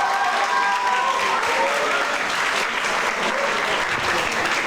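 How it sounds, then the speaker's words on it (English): Audience applause fills the hall after a combat sports bout, a steady dense wash of clapping held loud and even throughout with faint crowd noise beneath. "can we have a round of applause for our competitors going to the limits?"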